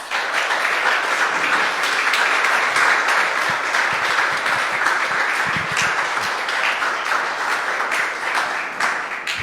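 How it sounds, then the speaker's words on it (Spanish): A church congregation applauds steadily and loudly throughout, a dense unbroken wash of many hands clapping with a few sharper claps near the middle. "Yo creo que es un buen momento para darle un aplauso al Señor."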